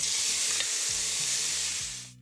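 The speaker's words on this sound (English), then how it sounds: "We want that sizzle when the steak hits the pan." Marinated steak strips sizzle loudly in a hot oiled pan, a dense steady hiss with some low clattering, fading out at the end.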